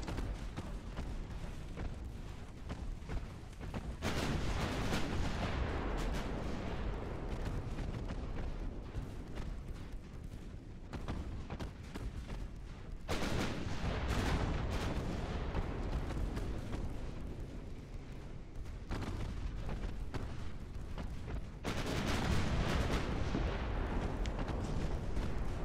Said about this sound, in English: just look at how many hits I'm landing from the secondaries, from the small guns, and from the destroyers, even with their guns.